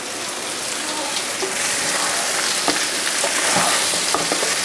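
Potatoes with garlic sizzle and crackle in a hot pan while being stirred, a steady dense frying hiss that stays loud and close throughout, with no talking.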